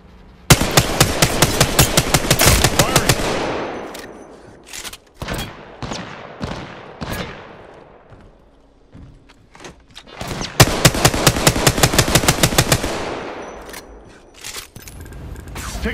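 Rapid automatic gunfire in a video game, long loud bursts of shots with short single cracks in between, close and dominant with no talk over it.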